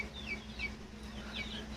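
Chickens perched on top of a cage give soft, intermittent clucks against a quiet background with a low steady hum.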